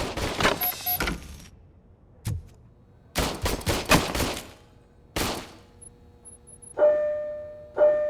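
Service pistol gunfire in the video game Robocop: Rogue City, with loud sharp bursts of rapid shots in separate clusters, followed by two electronic tones near the end.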